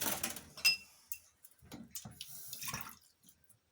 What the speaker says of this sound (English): Now I'm going to add a tiny bit of water